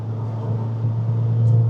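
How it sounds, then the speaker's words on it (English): Audi A4 DTM engine note through the exhaust, a steady low drone from the cabin that rises slightly toward the end. "I do love that engine note. It's really nice through that exhaust."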